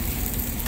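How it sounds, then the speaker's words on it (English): Fresh fish fries on a hot pan in an Istanbul restaurant, giving a brief, close, steady crackling sizzle. "Hot sizzling fish."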